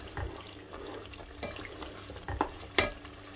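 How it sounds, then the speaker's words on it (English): Soft stirring and a gentle sizzle from a pot of Nigerian stew, with a few sharp scraping clinks of a spoon against the metal, no voices. "So you keep stirring for a bit. It's like frying it, really."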